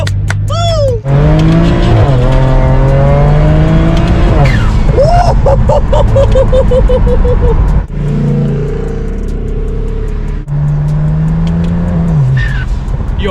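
A cheap BMW car accelerates hard through its gears, loud close engine revving rising in pitch with brief drops at each shift, tire noise underneath and voices over the top.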